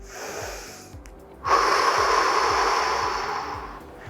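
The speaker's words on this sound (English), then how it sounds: "take a long breath" A single long, deep breath drawn in during a guided relaxation breathing exercise, close and clear, swelling into a steady breathy rush and then fading, with no talking.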